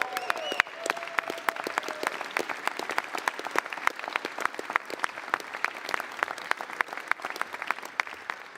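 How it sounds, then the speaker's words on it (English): Applause in the House chamber during the final vote on the Big Beautiful Bill, steady crisp hand clapping from a crowd, moderately loud and continuous throughout, with brief voices at the start. "You got to hold your applause."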